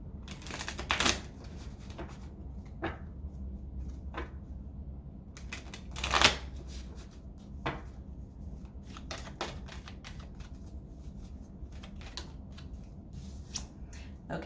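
Tarot cards being shuffled and handled during a karmic reading, a quiet stream of soft riffling and tapping bursts with a few sharper card snaps, close and low in level with no talk.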